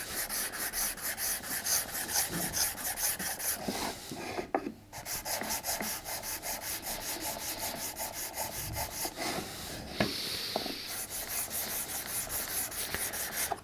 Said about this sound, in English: Just clean the abrasive out. So short bristle brush will be good for that.